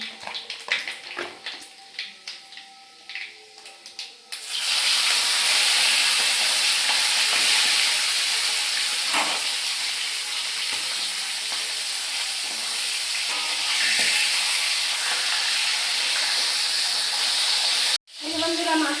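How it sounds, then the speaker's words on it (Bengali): Light kitchen clatter, then a loud burst of frying sizzle as a hilsa fish head goes into hot oil with panch phoron, hissing steadily for the rest, briefly cutting out near the end. "মাথাটা ভাজা হয়ে গেছে ইলিশ মাছের মাথাটা"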